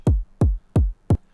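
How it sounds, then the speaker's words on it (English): Four punchy synthesized kick drums built from scratch, each a sharp click dropping into a deep booming tail, evenly spaced and played alone. "A kick that is made completely from scratch."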